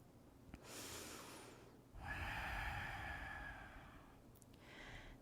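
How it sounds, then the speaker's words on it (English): Throat breathing with an audible HA quality on each exhale, like an ujjayi yoga breath: two or three close, breathy inhale-and-exhale strokes, soft and rasping, with no talking. "you're making an HA sound in the back of the throat on the exhale"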